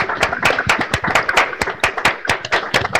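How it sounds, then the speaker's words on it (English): A small group of people at an education board meeting clapping for a basketball team, a brisk, irregular run of sharp hand claps close to the microphone for three seconds, with no talking over it. "I would just love to clap for the basketball team and the gentlemen."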